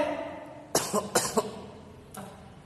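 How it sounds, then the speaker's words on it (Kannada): A person coughs in a Kannada stage drama: a quick pair of coughs, then two more close together, and a lighter single cough about a second later, with no talking. "1-2 ಸಾರಿ ಮತ್ತೆ ಕೆಮ್ಮಿಡುದು"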